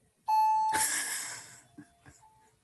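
A baby monitor alarm goes off loudly in a home: a sustained electronic tone that swells into a harsh, breathy blare for about a second and then fades, followed by a couple of faint short beeps.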